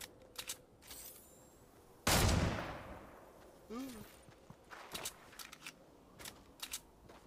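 Video game gunfire with one loud burst of shots that decays over a second, plus scattered quieter shots and clicks around it.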